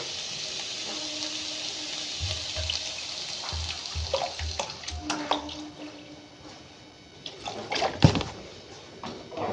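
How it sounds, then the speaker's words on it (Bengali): Water poured into a pot of buttered vegetables for soup, a hissing splash and sizzle up close with rattles and clinks of the pot, growing louder near the end. "এবার আমি এর মধ্যে জল দিয়ে দিচ্ছি"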